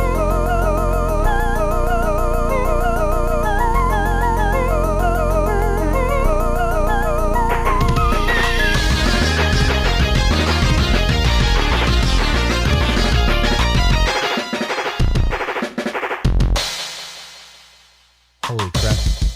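Upbeat Pokémon Battle Factory video game music plays loud and dense, a bright layered melody over steady bass that turns busier midway, then breaks into choppy stops and a sudden dip near the end.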